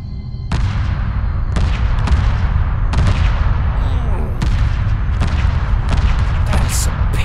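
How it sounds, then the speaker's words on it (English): New missiles fired at an enemy carrier in the space strategy game Homeworld 2 thud out in a steady series of loud launches and impacts, roughly one a second over a constant low rumble. "First, we're gonna take out their carrier. See how good these new missiles are."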